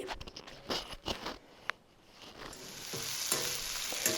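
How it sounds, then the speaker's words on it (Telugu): Ginger pieces, garlic cloves and thinly sliced green chillies frying in a pan for an aloo gobi matar curry, with a steady sizzle and spatula stirring scrapes that build louder toward the end, no voices. "ఇప్పుడు ఇందులో 4 చిన్న చిన్న ముక్కలుగా చేసినటువంటి అల్లం ముక్కలు, 4-5 వెల్లుల్లి రెబ్బలు, ఒక 2-3 పచ్చిమిర్చి సన్నగా కట్ చేసి ఇందులో వేసేసుకొని ఇవన్నీ కూడా ఫ్రై చేసుకోవాలి."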